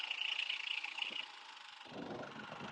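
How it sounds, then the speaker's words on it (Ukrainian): A DENQBAR DQ-3800 inverter generator runs in eco mode, its steady engine hum dropping to a lower, quieter idle partway through, with a brief louder surge near the end. "генератор почав працювати на менших обертах"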